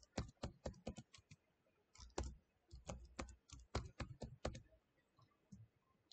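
Password being typed on a computer keyboard while setting up a Windows Server 2022 domain controller: quick bursts of crisp, close key clicks in uneven clusters, with brief pauses between runs and no talking.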